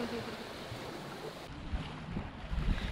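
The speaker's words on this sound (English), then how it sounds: "Lucky we got some breeze here today to try the sails out." Breeze and waves on a sailing yacht in Southeast Asia make a steady broadband wash of wind and water rushing, with buffeting wind noise on the microphone and low thumps of water growing stronger toward the end.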